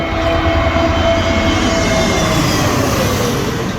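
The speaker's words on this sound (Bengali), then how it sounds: "বিমানটি শো করে মাথার উপর দিয়ে চলে গেল" A loud, steady roar of an airplane flying low overhead in Uttara fills the air, a broad rushing engine noise with a faint whine that holds constant throughout.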